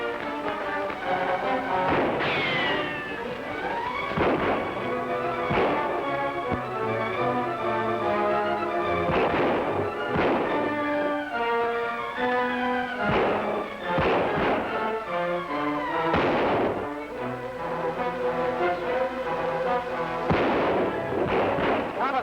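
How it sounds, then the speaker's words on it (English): Sustained gunfire in a 1948 jungle adventure film serial shootout, with repeated sharp shots and booming reports cracking over a continuous orchestral music score for over twenty seconds, loud and dense. "Who's doing all that shooting?"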